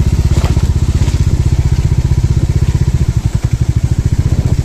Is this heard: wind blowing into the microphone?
no